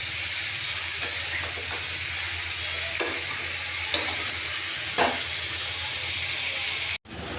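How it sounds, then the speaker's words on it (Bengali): Potatoes and pointed gourd fry with black pepper in a hot pan, a steady close sizzle broken by four sharp stirring scrapes about a second apart, ending in an abrupt clatter. "আমি এটা গোলমরিচ দিয়ে ভাজবো। আমি এটা ভালো করে কষিয়ে নেব।"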